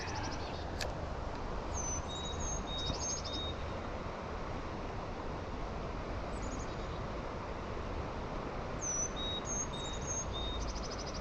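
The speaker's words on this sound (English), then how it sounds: "Birds are chirping." Birds chirp outdoors beside the water at a winter crappie fishing spot, thin high calls in short bursts now and then over a constant wash of wind-like ambient noise.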